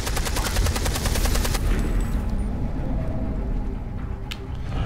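Rapid automatic gunfire from the video game Beyond: Two Souls, a loud burst of evenly spaced shots that stops abruptly, followed by a lingering rumble and a few faint clicks.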